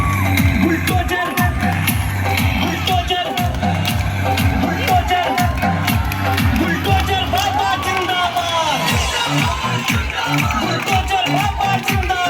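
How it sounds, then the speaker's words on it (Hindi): A large crowd at a Ganpati Mahotsav festival stage play cheers, whoops and claps to welcome a leader on stage. The noisy, loud hubbub runs continuously throughout, with shouting voices mixed in. "तो जोरदार तालियों से उनका स्वागत कीजिए।"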